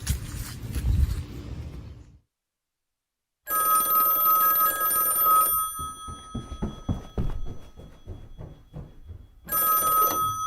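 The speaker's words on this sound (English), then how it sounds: "think I hear the phone ringing." Telephone bell ringing loudly in a house, two long trilling rings separated by a pause, close and clear, with a burst of low rumble and clatter before the first ring.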